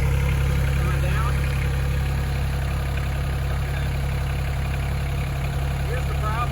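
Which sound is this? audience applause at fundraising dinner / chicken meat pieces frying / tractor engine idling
tractor engine idling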